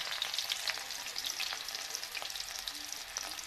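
Green chili and tomato fry in hot oil, a dense crackling sizzle with rapid spitting pops, close and fairly quiet, with no voices.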